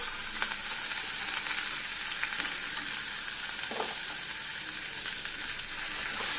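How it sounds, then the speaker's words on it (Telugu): Thinly sliced long onions fry in hot oil in a pan for a sour tamarind stew, a close continuous sizzle with a few faint stirring clicks and no voices. "మనం సన్నగా తరిగి పెట్టుకున్న ఆనియన్స్ని ఇందులో యాడ్ చేసేద్దాం"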